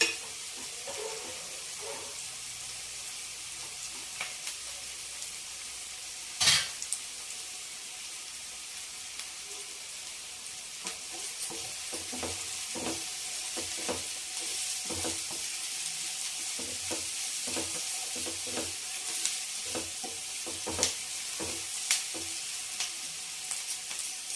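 Potatoes for homemade aloo 65 sizzle steadily in hot oil, a constant hiss with scattered sharp pops and occasional clinks of a stirring utensil against the pan.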